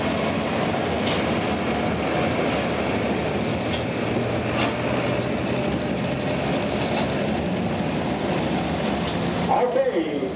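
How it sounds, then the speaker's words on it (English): A turbocharged pulling tractor in the 7,700-pound class roars at full power at a state fair pull, a loud, continuous engine and turbo drone heard from a distance that holds steady, with a brief whine at the end. "Okay, trying to get all of those turbochargers wound up."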